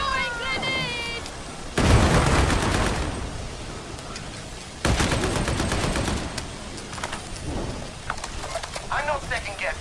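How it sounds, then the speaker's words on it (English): Grenades burst and gunfire rattles in a video game, two loud broadband blasts followed by sustained crackling fire, with a voice talking at the start and end. "Throwing grenades!"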